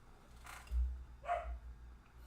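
A dog barks twice somewhat faintly at a distance, the two short barks spaced about half a second apart over a low background hum.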